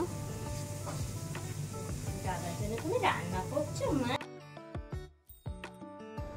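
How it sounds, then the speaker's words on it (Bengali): Food sizzles and crackles in a hot pan, with occasional stirring and clinks of utensils, before the frying noise drops away near the end. "আর এদিকে রান্নাঘরে চলে এসেছি 5 রকম ভাজার জন্য"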